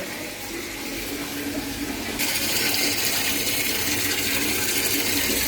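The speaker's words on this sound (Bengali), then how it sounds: "তোমাদের দাদা ভরছে সকালের জল" Water runs at home as containers are filled with the morning's supply, a loud, steady rushing that grows fuller partway through and keeps going without a break.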